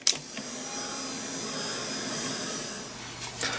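A blower drying craft paint on bubble wrap blobs roars in a steady, continuous whoosh from start to finish, starting with a brief click and ending on a short rise.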